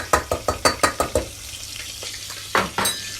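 Flour dropped into hot oil in a pan for a butternut squash lasagna: a quick run of about seven sharp tapping crackles, then a quiet hissing sizzle with a couple more louder scrapes near the end.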